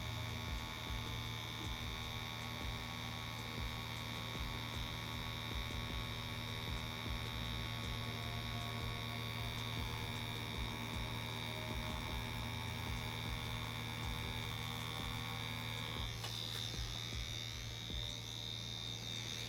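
A tattoo machine needle running, a steady electric buzz with a constant mains-like hum, quiet and unbroken for the whole stretch, with a slight change in texture near the end.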